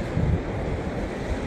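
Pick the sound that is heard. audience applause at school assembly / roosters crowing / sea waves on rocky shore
sea waves on rocky shore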